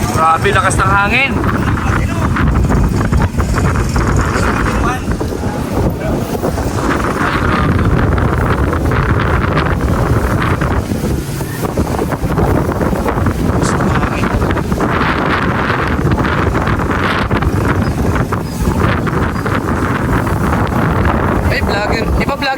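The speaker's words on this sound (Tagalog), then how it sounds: "Grabe, lakas ng hangin." Strong wind buffets the microphone in a loud, continuous rumbling roar with gusty surges, near the sea, while people talk underneath it.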